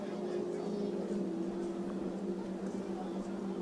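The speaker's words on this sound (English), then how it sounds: "that Mercury engine working very hard right now. You can hear it banging the rev limiter" A Mercury engine on an offshore racing super-boat screams at full revs during a race in Australia, bouncing off its rev limiter with a steady, loud, droning roar throughout.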